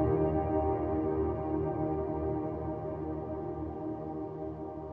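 A piano sample drenched in heavy reverb with long decay, processed in a music production program, rings out as one sustained, smeared chord that hangs steadily and slowly fades, with no voices.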